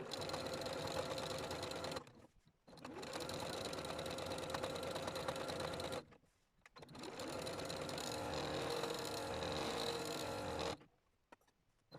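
A sewing machine stitches a felt embellished piece in three continuous fast runs, a steady humming rattle broken by short pauses.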